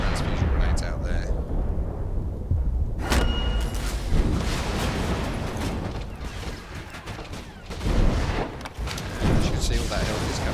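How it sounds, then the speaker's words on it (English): Transfusion grenades going off in the Borderlands 2 video game, a dense stretch of booming blasts and crackling effects with sharp hits, under someone talking throughout. "A couple of transfusion grenades out there."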